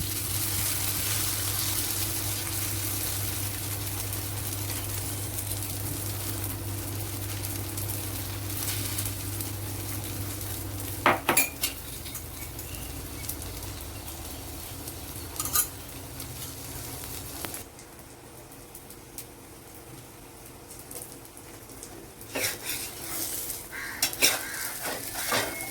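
Omelette cooking on a hot dosa pan (tawa), with steady sizzling, scraping and a spatula clinking against the pan, a low hum dropping out partway, then sharper taps near the end.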